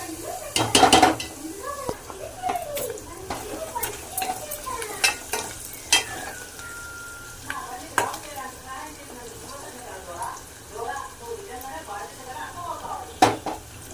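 Onions frying in a pan with a steady low sizzle, interrupted by scraping stir strokes and sharp clinks of a utensil against the pan, one loud knock near the start and another at the end.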